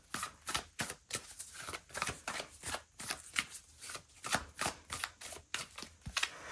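Tarot cards being shuffled by hand, a quiet close run of rapid riffling bursts in a steady rhythm, with no voice.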